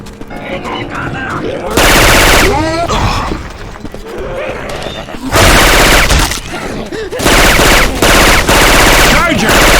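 Weapon sounds from Syphon Filter modded into the zombie shooter Left 4 Dead 2 come in loud, dense bursts of rapid automatic fire, broken by short lulls. Game voices and effects mix in between the volleys.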